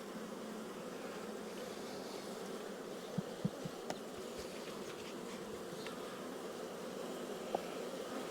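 Honey bees buzzing around an open black hive during a spring inspection, a steady dense hum filling the background with a few brief soft knocks of frames being handled.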